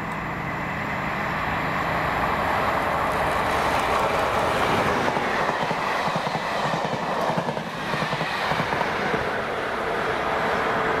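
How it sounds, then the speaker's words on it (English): A Scottish test train hauled by HST power cars passes Edinburgh Park station, a steady loud rumble of engines with rhythmic wheel clatter over the rail joints that swells and holds for about eleven seconds. "This is the very first Scottish UTU test train to be hauled by HSTs, seen passing Edinburgh Park."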